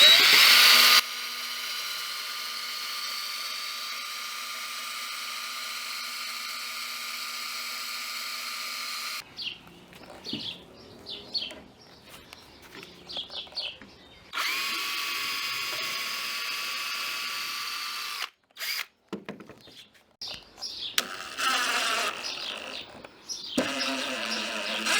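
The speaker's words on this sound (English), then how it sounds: "you need to pre-drill all your holes" A power drill whirs in bursts with pauses between, mechanical grinding and clicking as it pre-drills holes in lumber boards, fairly close and loud.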